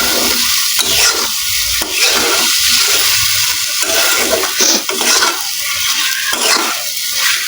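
Pre-fried taroli (pointed gourd) pieces stirred into sizzling masala in a pan, a steady loud frying hiss with repeated rhythmic scraping strokes of the spatula throughout, no voices.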